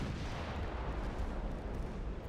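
A deep, rumbling, booming impact from a torpedo striking a ship in Ultimate Admiral Dreadnoughts, a dense low roar filling the whole short stretch without speech.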